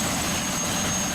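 Helicopter droning steadily, a continuous rumbling engine and rotor noise with a thin high whine on top, moderately loud throughout a short stretch, no speech.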